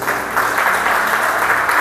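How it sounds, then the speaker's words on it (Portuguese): Church audience standing during prayer breaks into loud, steady applause, a dense continuous clapping that holds evenly throughout. "Aplauda o nome de Jesus."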